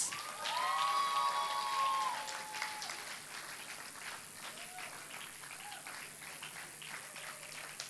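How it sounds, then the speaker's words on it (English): An audience at a graduation ceremony and conference claps and cheers for a guest speaker, a dense wash of applause with a few whoops early on that settles into steadier clapping, with faint voices mixed in. "A round of applause, please."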